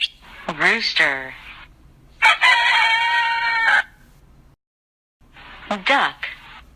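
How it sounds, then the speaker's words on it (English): A rooster crows loudly several times in a row: a stuttering start, one long sustained cock-a-doodle-doo, then a further crow after a brief pause, close and clear with no talking. "Rooster."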